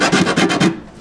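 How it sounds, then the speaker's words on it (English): A small sanding block rasps across the bridge of a vintage Martin acoustic guitar in four quick, even back-and-forth strokes, loud and close. "do a quick sanding of this to clean up the major anomalies here"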